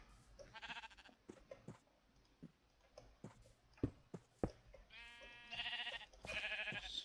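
Minecraft sheep from the Traincraft mod bleat several times in the second half, a wavering, buzzy baa repeated in a few bursts, with scattered clicks and taps of in-game actions sounding before and between them.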